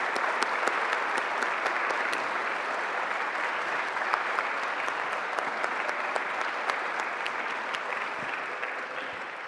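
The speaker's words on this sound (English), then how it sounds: "Please join me in a round of applause." Steady applause from an audience at a city inauguration ceremony, many hands clapping evenly for nearly ten seconds with scattered sharper claps and a slight fade at the close.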